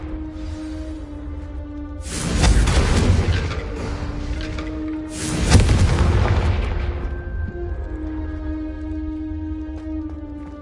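Confringo spells go off in the Hogwarts Legacy video game as two heavy, booming explosions a few seconds apart, each followed by a rumbling tail that fades into a low hum.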